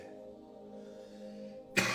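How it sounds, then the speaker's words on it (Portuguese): A single sharp cough bursts out near the end, close and loud, after a quiet stretch of low tonal background sound. "estou com uma tossinha chata hoje"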